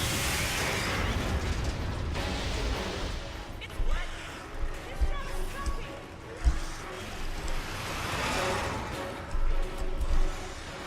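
Grenade blasts in Resident Evil 5, several muffled booms and crashes scattered over a rumbling game soundscape, with a player talking over parts of it.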